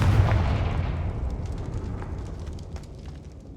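A Confringo fire spell in Hogwarts Legacy bursts into a loud, booming explosion at the start, its roar and crackle fading away over a few seconds with scattered sharp pops trailing off.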